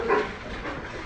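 Dogs barking on a farm where chicken eggs are being incubated, a short burst of yips or barks near the start, then fading into steady background noise with no talk.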